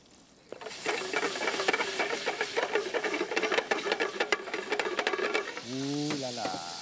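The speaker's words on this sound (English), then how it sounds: "We'll melt the butter down a bit." Butter melts and sizzles in a hot pan, a dense crackling patter of close spitting pops that runs for several seconds before a voice cuts in at the end.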